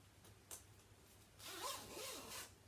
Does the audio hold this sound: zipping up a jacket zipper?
yes